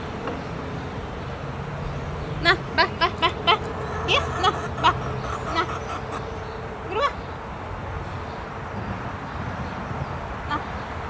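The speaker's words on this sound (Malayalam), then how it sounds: "നമ്മുടെ കോഴി എത്തിയിട്ടുണ്ട്." A hen clucks outside in a quick run of short, repeated clucks, then a few scattered ones at moderate distance over steady background hiss.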